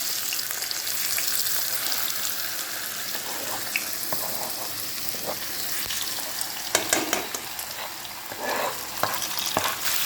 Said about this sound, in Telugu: సో చూసారు కదా, ఆయిల్ అయితే హీట్ అయిపోయింది. అందులో ముందుగా కట్ చేసి పెట్టుకున్న బంగాళదుంపలు వేసుకుంటాం.